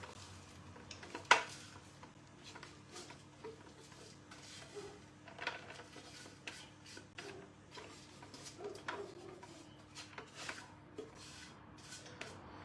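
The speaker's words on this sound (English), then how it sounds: "We're going to tip the mixture into our lined and greased lamington tray." Cake batter for a lemon and coconut slice slides from a mixing bowl into a lined, greased lamington tray, giving soft scraping and clinking of utensil against bowl with light knocks, close and fairly quiet.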